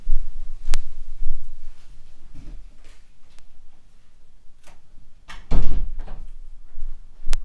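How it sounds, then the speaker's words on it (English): A door is shut indoors with a sharp, heavy thud and a brief rattle, preceded by a few lighter knocks and handling noises. "Hold on, let me close the door."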